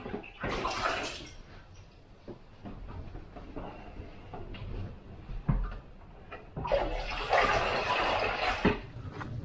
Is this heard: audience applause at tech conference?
no